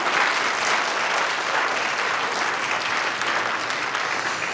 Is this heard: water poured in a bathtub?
no